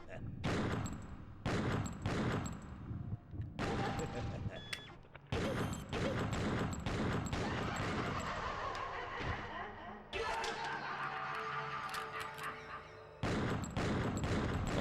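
Repeated volleys of gunfire from a GameCube shooter game crack out in loud bursts separated by short gaps, with brief lulls of in-game ambience and a voice talking over parts of it.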